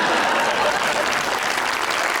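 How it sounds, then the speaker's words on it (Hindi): A studio audience made up mostly of women claps steadily on a television talk show, a dense, even wash of applause with no pauses. "सब तालियां भी जो बजा रही हैं वो सारी मेजरली खवातीन ही हैं।"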